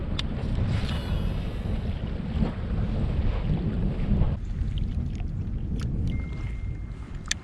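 Heavy wind roars across a huge lake during a kayak fishing outing, a loud, steady rush of gusts buffeting the microphone, easing slightly toward the end.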